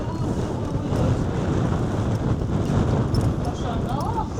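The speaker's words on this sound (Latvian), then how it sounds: "Ui, kāds vējš." Strong wind roars steadily across the microphone in Krka National Park, Croatia, a loud continuous rumbling buffet with no pauses.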